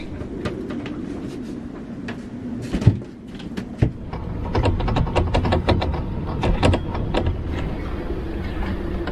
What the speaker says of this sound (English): hearing the snubber creaking and groaning as we yawl around